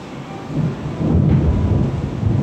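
Thunder rumbling through a storm in the city-building game TheoTown, a deep continuous roll that builds and swells over rain, loud and sustained with no pauses.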